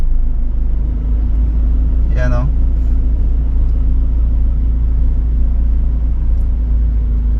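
A car moving slowly in congested traffic on the Skyway expressway produces a loud, steady low road and engine rumble throughout, with someone speaking briefly over it.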